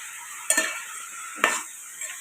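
Tomatoes being stirred into a simmering curry of flat beans and dried fish in a pan, giving a steady close sizzle broken by two sharp scraping stirs.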